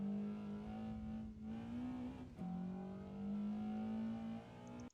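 Car engine revving hard in Assetto Corsa on the Akina touge course, pitch climbing, dipping sharply at a gear change or handbrake flick, then rising again; loud, close and continuous with no talk.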